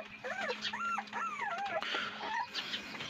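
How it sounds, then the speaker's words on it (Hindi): A litter of newborn puppies whimper and squeal in high, rising-and-falling cries, several overlapping yips close by, with no talking. "तो ये सब 10 पिल्ले"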